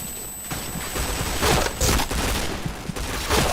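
Rapid bursts of gunfire from a shooting video game, loud and dense with several volleys and sharp cracks spread across a few seconds, no talking over them.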